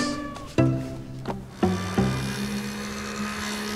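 A cat meows several times in a home kitchen at mealtime, the loud, clear calls coming close together, each sliding down in pitch, with no talk over them.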